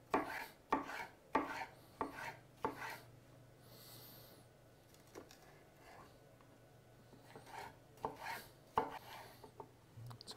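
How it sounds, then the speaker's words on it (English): A knife finely slicing de-seeded capsicum on a board, a series of crisp close chops in irregular bursts with a pause in the middle, faint breathing in between. "And from there we're just going to finely slice it."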